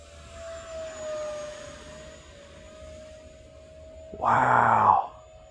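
X36 jet model plane flying overhead, a thin steady whine that drifts slowly in pitch, followed by a brief louder, rougher burst near the end, faint and distant under quiet surroundings.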